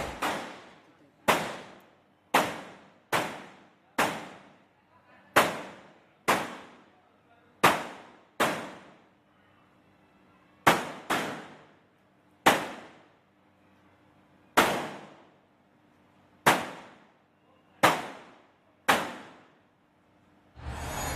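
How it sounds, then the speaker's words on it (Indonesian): Firecrackers go off one at a time, about sixteen sharp, loud bangs at irregular intervals of roughly one to two seconds, each with a brief ringing decay. "Kita coba hidupkan petasan dan kita akan dengarkan"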